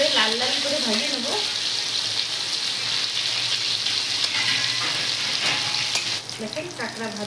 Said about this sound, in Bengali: তেল গরম হয়েছে, কাঁকড়াটা ভেজে নেবো